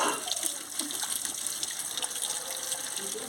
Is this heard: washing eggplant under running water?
yes